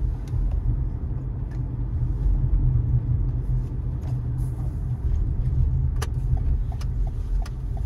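Car climbing a mountain road near Prescott, Arizona, heard from inside as a continuous low rumble of engine and tires, with occasional faint clicks and no talking.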